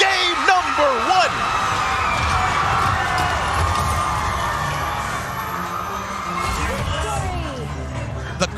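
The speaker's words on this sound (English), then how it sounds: "The crowd cheering their hearts out for the M3 World Champions, Blacklist International" A large arena crowd roars and cheers continuously at an esports match, loud and sustained with whoops throughout, after Blacklist International takes the game.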